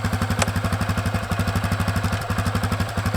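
A Honda CRF250F dirt bike engine idles with a steady, fast, throbbing pulse close by, and a single short click lands near the start as it is shifted into first gear.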